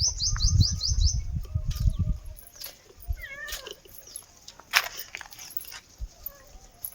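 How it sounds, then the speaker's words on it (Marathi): A house cat meows a few times, its short, drawn-out calls over a quiet room, with bird chirps and low knocking at the start. "काय ग म्याव म्याव करती?"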